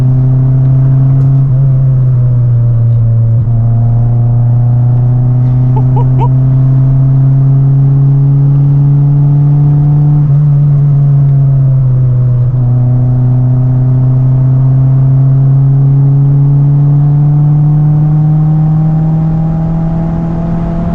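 A turbocharged Mitsubishi Lancer engine drones loudly at high revs, its pitch climbing and dipping repeatedly as it bounces off the rev limiter, close and sustained.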